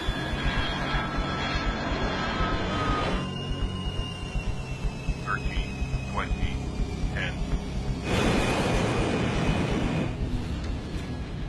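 A jet airliner comes in to land, its engines a steady, heavy roar that swells and eases, with voices talking intermittently over it.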